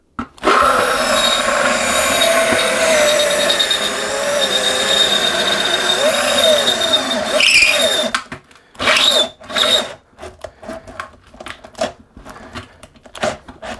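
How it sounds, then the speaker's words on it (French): A cordless drill with a small burr bit grinds into a stainless steel sink to enlarge a hole, producing a loud, close whine for several seconds, then short bursts as it stops and restarts. "avec la petite fraise je veux pouvoir agrandir le trou"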